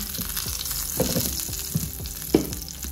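Mustard seeds and cumin crackle and splutter in hot oil in a home kitchen, a steady close sizzle broken by scattered sharp pops, one louder burst near the end, with no talking.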